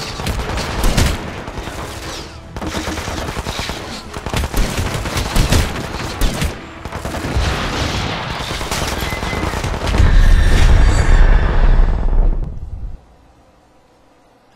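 Sustained gunfire in Hitman: Absolution, a dense, loud fusillade of rapid shots and bursts running for most of the stretch, swelling near the end before cutting off abruptly into near silence.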